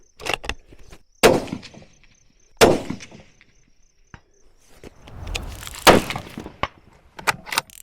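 Several sharp rifle shots from a Browning or Ruger hunting rifle fired at a target, each loud crack trailing off quickly, with smaller clicks and knocks between the shots and no speech.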